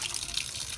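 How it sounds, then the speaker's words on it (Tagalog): Steady water runs from a sink faucet into a basin, a soft continuous hiss and splash that is close and fairly quiet, with no voices. "Ito sa gripo ito nipa-flowing natin."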